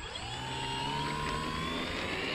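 An E-Flite Apprentice STS radio-controlled airplane taking off in assisted flight mode: a steady, high electric motor whine whose pitch climbs gradually as throttle is added, continuous and fairly close.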